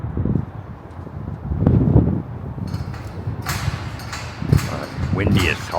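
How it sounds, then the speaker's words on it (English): Wind blows outdoors at a building demolition site, gusting in low, buffeting surges against the microphone, loud and close, while a voice talks over it at times. "Windy as all out here."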